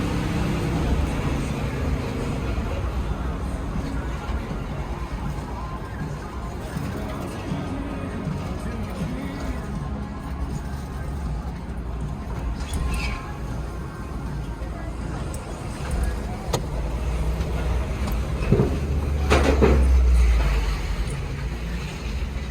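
A 2022 Ford Bronco Badlands Sasquatch crawls up a steep off-road hill in first gear, its low engine rumble steady beneath wind buffeting against the microphone, rising slightly toward the end.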